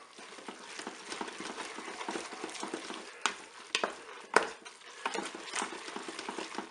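A spoon stirring a thick Boursin mixture in a Cookeo pot, producing soft repeated scraping and squelching strokes, close and moderately quiet, with an occasional sharper knock against the pot.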